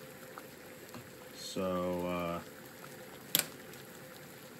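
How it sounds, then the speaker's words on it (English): Water boiling in a pot, heated to test a thermostat from a Nissan forklift, makes a steady low bubbling hiss throughout, with a brief voice and a sharp click partway through. "Obviously this water is boiling."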